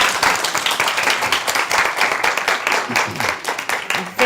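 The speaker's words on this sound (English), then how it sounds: "A big round of applause." Loud, dense clapping from an audience at the close of a health policy course lecture, steady and sustained throughout with no talk over it.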